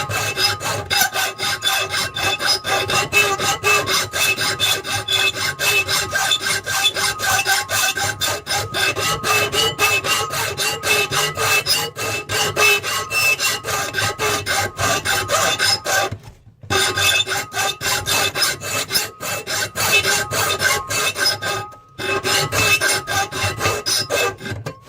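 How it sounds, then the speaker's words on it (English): A bastard file rasps steadily across a steel knife blank up close, loud rapid back-and-forth strokes running almost continuously, broken by two brief pauses. "I'm going to go back to using my bastard file instead of my needle"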